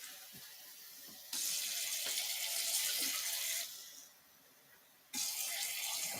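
A cup of water is filled from a running tap for cooking quinoa, the stream rushing in two bursts with a quieter pause between them and light clinks, close by, with no talking.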